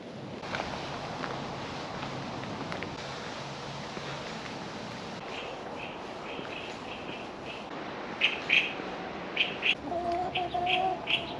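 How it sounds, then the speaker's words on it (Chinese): A rooster crows from some distance near the end, over a steady outdoor background with faint chirping birds, beside a creek-side walking trail. "旅行遇见公鸡"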